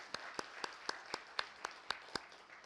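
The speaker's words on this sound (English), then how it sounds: "if we could give a round of applause to everyone who organized the" Faint, evenly spaced hand claps, about four per second, from the audience at a conference closing session, distant and thin rather than a full ovation.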